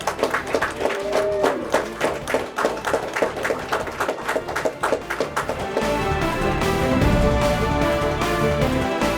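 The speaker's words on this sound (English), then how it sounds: "And we give them an applause." A crowd applauds students at a junior high school event in Brawley: steady, dense clapping for several seconds, then shifting into a louder continuous wash with a low rumble, fairly close and with no talking.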